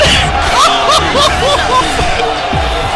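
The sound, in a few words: crowd going wild at varsity hockey game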